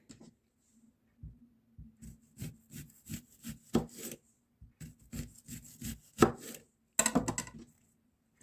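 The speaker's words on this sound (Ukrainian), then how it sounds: "Далі ми ріжемо цибулю такими кільцями." A knife chops an onion into rings on a wooden board, giving a steady series of distinct close, crisp cuts, roughly one or two per second, with a quicker burst of cuts near the end and no talking.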